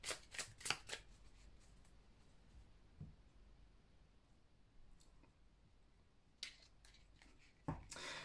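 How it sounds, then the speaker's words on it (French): Tarot cards are cut and shuffled close by in quick riffling bursts at the start, then near-silence with a soft tap, and two more short shuffles near the end, faint and without voices. "Alors là, on a un peu trop de cartes. On va faire une coupe tout d'abord."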